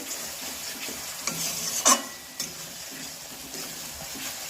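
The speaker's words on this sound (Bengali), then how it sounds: "এইভাবে আমি ভালো করে 20 মিনিটের মতো কষিয়ে নেব" Chicken sautés with onion, a whole onion, turmeric, salt and poppy seed paste, giving a continuous close sizzle with occasional spoon scrapes and clinks against the pan and no speech.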